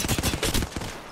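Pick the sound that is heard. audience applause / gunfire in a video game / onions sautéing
gunfire in a video game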